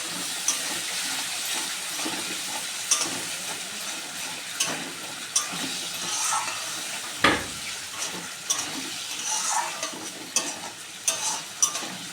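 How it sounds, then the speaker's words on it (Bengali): Potatoes and spices frying in a pan with a little water, a steady soft sizzle broken by stirring clinks and scrapes, close and moderately loud with no talking. "আর আলটা দিয়ে দিচ্ছি"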